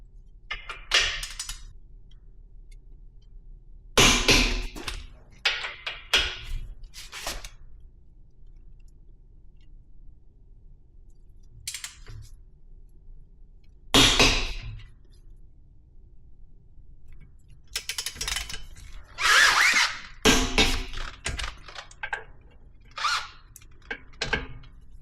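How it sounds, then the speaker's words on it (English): A wrench torques the brake caliper bolts on a Porsche Cayenne Turbo to 104 foot-pounds, producing scattered sharp clicks and clanks in separate short bursts over an otherwise quiet workshop background. "Finally, we're going to torque down the caliper bolts to"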